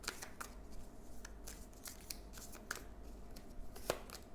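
Oracle cards are shuffled by hand in a quiet room, a soft continuous riffling with small flicks and taps. It sounds close and faint, and no one talks.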